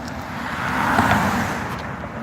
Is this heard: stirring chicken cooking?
no